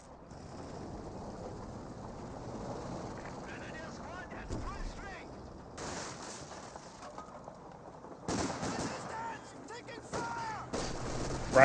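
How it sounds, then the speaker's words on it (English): Rapid grenade fire and other gunfire in a Company of Heroes 2 battle, a series of distant bursts and pops with wind-like rumble, some clustered louder toward the end, under a commentator's continuous talk. "Rapid grenade fired."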